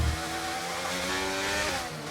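Formula 1 race cars screaming past in the F1 23 video game, a high, revving engine whine with pitch sweeps as cars accelerate and overtake, sustained and fairly loud.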